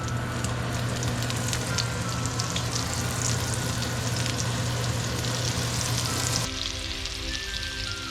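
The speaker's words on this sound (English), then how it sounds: "Now we're gonna let this cook in this butter" Seasoned kingfish fillets fry in melted butter in a pan, giving a loud, steady, close sizzle with crackling spatter throughout, alone with no voices.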